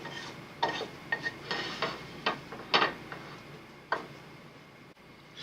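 A cooked egg being transferred onto a plate in a country breakfast kitchen, a series of light clinks and taps of utensil against pan and plate, quiet and scattered over a few seconds.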